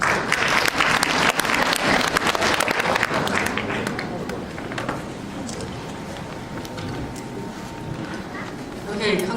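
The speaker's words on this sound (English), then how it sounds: "please give a warm welcome and a round of applause to Director Kyung-Suk Young" Graduation ceremony audience applause, loud sustained clapping from a large crowd that thins and fades toward the end, with some voices underneath.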